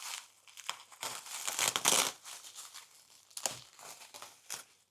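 Crinkling plastic wrapping is pulled open from around new Volkswagen Golf 7 car parts, with bursts of rustling and tearing that swell and fade over several seconds, close by and fairly loud.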